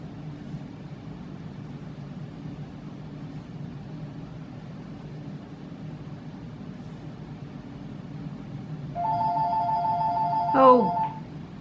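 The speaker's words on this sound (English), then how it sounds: "I forgot to unplug the phone." Telephone ringing once near the end, a short bright electronic ring over a steady low background hum in an otherwise quiet room.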